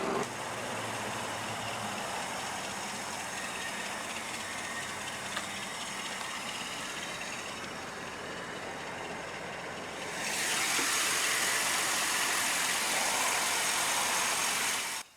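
A 1994 Chevrolet Camaro Z28 convertible with the LT1 5.7-liter naturally aspirated V8 pushrod engine idles steadily and close by. Partway through, the sound swells into a louder, rushing roar, and there is no talk.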